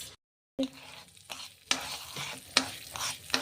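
Rice is stirred while frying in ghee in a pan for a Bengali khichuri, giving a sizzling hiss broken by several distinct scraping strokes after a brief silent gap at the start; nobody speaks.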